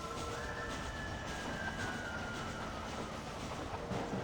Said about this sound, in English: This old steam train.